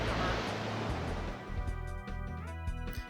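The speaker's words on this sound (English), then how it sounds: "we'll use Waterfall on this guy" Waterfall attack in Pokémon Stadium 2: a loud rushing wash of water that fades after about a second, followed by quieter tonal game sounds and brief hits.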